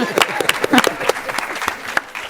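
Brief applause at a municipal cannabis control board meeting, scattered hand claps from a small group in a room, irregular and moderately loud, with some voices mixed in.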